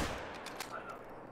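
Video game gunfire, a quick run of faint, sharp shots spread over a second or so, set against a busy background with a voice in it.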